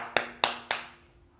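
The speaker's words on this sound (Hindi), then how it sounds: "आपके लिए तालियां फिर से एक बार" Three sharp, evenly spaced hand claps ring out nearby for a student in a classroom, then quickly fade to quiet.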